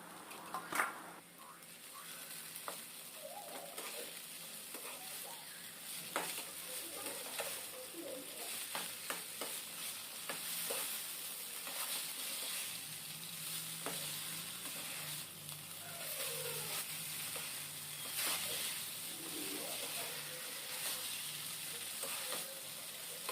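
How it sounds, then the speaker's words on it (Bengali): Boiled chowmein tossed and stirred in a hot oiled pan with salt, a close, steady sizzle broken by scraping strokes and light clicks of the utensil against the pan. "সেদ্ধ করে রাখা চাউমিনটা দিয়ে আমি ভালো করে এটাকে নেড়ে চেড়ে নিব"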